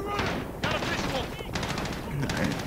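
Uzi submachine gun fire in Call of Duty Modern Warfare, rapid bursts of automatic shots crackling close and loud over in-game sound effects, with a voice speaking in the mix.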